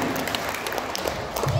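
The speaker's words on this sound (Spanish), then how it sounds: "Dele fuerte palmas al Rey de Reyes y Señor de Señores." A church congregation claps hands together at a Christian worship gathering for a birthday, a brisk, continuous patter mixed with voices speaking and calling out over it.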